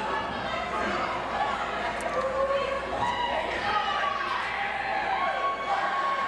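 A wrestling crowd at a UCW TV event jeers Rastakahan during a match, a dense, continuous roar of voices and shouts that fills the whole stretch at steady loudness.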